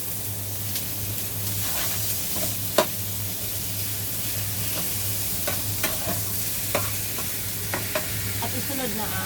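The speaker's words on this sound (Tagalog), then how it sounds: "ilagay natin ang giniling na beef" Ground beef fries in a hot pan, giving a steady sizzling hiss with scattered clicks and scrapes from stirring.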